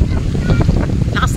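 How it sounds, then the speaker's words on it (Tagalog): Heavy wind rumbles against the microphone in a loud, gusty low roar for a moment, with faint voices mixed in, on a steep road to a beach resort. "Lakas ng hangin."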